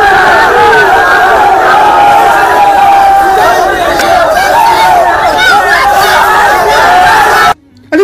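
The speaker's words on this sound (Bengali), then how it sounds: "তারা তাদেরকে ঘিরে বিক্ষোভ দেখাচ্ছে, জয় শ্রীরাম স্লোগান দিচ্ছে" A large crowd of students at a school protest over a hijab ban in Karnataka chants and shouts slogans, a loud, dense roar of many voices continuing steadily before cutting off abruptly near the end.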